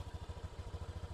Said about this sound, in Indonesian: suara mesin dari Vario 125 terbaru